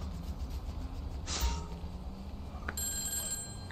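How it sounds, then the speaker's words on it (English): Payphone ringing in the video game GTA Online, a short electronic ring heard twice over a low steady background hum, moderately faint. "answer the payphone"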